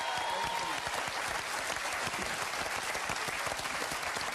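A television studio audience applauds loudly and continuously, a dense, even wash of clapping with no breaks.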